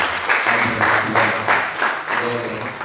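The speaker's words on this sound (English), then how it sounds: "you all deserve a round of applause" Audience at an energy symposium and exhibition applauds, a fairly loud spread of clapping beneath a voice speaking over it.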